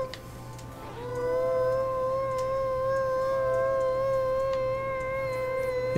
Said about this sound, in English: I can make a howling sound.